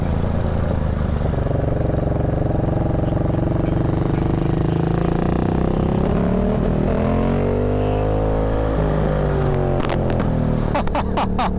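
A Yamaha MT-07 motorcycle engine runs loud and close, its drone rising and falling as the revs change, with rough, sputtering pops toward the end.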